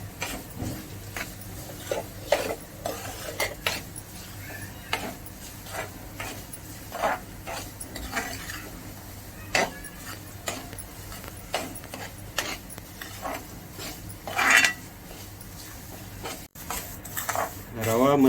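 Semolina roasts in a pan for prasad sheera while a spatula stirs it, intermittent scrapes and metallic clinks against the pan over a low steady background hum.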